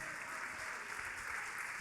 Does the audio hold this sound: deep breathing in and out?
no